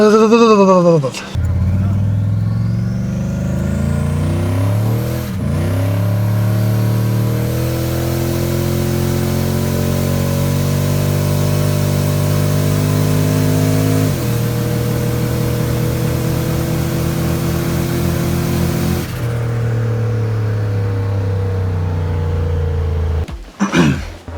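A turbocharged truck accelerates hard on a quarter-mile run, its loud, close engine climbing through several gear shifts with rising whine, dropping pitch at each shift, before cutting off abruptly near the end.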